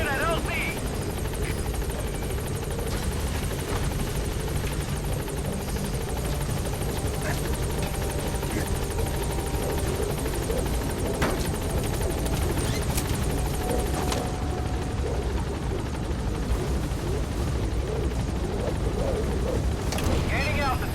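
The Pequod helicopter approaches a landing zone in Metal Gear Solid V, its rotor throbbing steadily and loudly for the whole stretch with a dense low drone, while a radio voice speaks over it.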